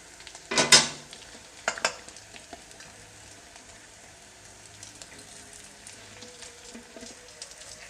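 Bell pepper pieces with jaggery in a pan for capsicum palya: one sharp, close clatter of stirring, then a few lighter scrapes over a faint, steady sizzle, with no talking.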